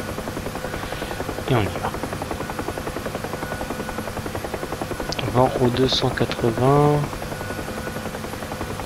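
Steady Huey helicopter rotor drone in the game DCS as the helicopter lands, with a voice speaking briefly over it twice.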